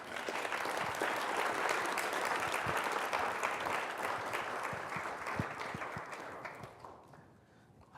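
A lecture-hall audience applauds after a library book talk, dense steady clapping that carries on for several seconds, then thins and fades out near the end.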